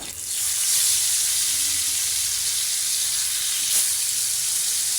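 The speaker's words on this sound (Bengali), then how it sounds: "মাছগুলো দিয়ে উল্টে পাল্টায়া ভেজে নেব।" Koi fish frying in hot soybean oil in a frying pan, a loud steady sizzle with bubbling hiss that holds evenly throughout, close up and without talk.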